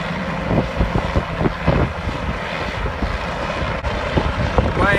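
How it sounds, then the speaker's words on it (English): Helicopter hovering to pick up a fuel load of gas canisters near Mount Madison on the Appalachian Trail, a loud continuous rotor thump and engine roar close by, buffeted by wind noise on the microphone. "Here's the helicopter picking up the fuel"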